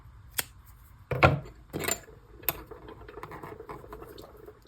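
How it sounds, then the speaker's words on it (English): Scissors snip through yarn during a provisional crochet cast-on, giving a few short, close, crisp cuts with light rustling between them and no talking. "Then we can cut our yarn"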